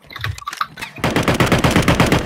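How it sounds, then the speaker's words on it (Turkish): In Call of Duty Warzone, a rapid burst of close, loud automatic gunfire erupts after a second of scattered shots and continues in a steady rattling rhythm. "Arkadan da sıkıyor"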